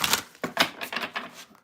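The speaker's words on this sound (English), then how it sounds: "Let me shuffle lay cards." Tarot cards being shuffled by hand, a quiet run of crisp riffling snaps and soft slaps in an uneven rhythm, close and alone.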